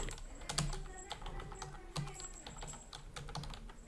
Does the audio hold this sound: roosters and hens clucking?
no